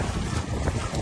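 A wind-powered sailboat with no engine glides off Boracay, carried only by the wind; steady close rush of wind and water with heavy microphone buffeting, no engine note underneath.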